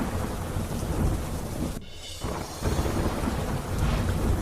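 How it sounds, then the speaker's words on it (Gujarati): Steady rain pours across the Valsad district of Gujarat while a thunder rumble rolls through, the downpour continuous and full from start to finish. "વલસાડ શહેર સહિત આસપાસના વિસ્તારોમાં વરસાદ"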